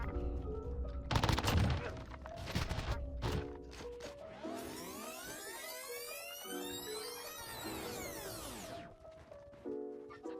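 A Warzone video game gunfight, with bursts of automatic gunfire and sharp shots up close, then sweeping whooshing and ringing effects, loud and choppy with no talk.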